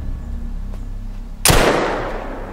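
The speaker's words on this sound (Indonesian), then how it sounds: "terdengar suara tembakan peringatan dari polisi" A single sharp police warning gunshot cracks out suddenly, loud and close, its echo decaying over the following second after a quiet lead-in.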